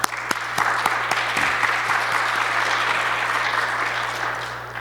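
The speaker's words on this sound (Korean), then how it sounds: "우리 감사의 박수 한번 드릴까요?" A church congregation applauds a visiting pastor at a Sunday service in dense, steady clapping that rises quickly, holds, and tapers slightly, with a low hum underneath.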